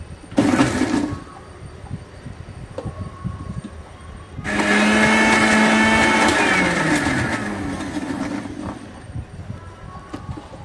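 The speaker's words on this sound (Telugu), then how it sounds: "మనం వేయించి చల్లారి పెట్టుకున్న వంకాయ ముక్కలు వేసి ఒకసారి మిక్సీ పట్టుకోవాలి" A kitchen mixer grinder grinds fried, cooled brinjal pieces: a short whir at the start, a pause, then a loud sustained motor drone for several seconds that winds down, with no speech.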